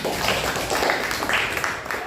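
A classroom of students applauds, a dense, steady wash of many hands clapping together for about two seconds, with some voices mixed in.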